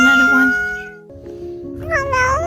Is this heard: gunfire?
no